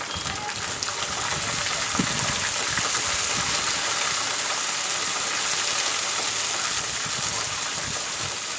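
Onions hit hot oil in a pan alongside cinnamon, cloves, cardamom and mint for bread biryani, giving a continuous bright sizzle that stays steady and close throughout, with no talk over it.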